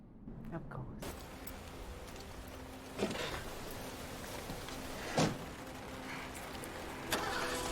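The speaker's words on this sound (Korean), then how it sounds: "집에 가야 되는데 망할 트럭이 시동이 안 걸립니다." A truck engine fails to start, with a few short cranking bursts spaced a couple of seconds apart over a steady background hiss.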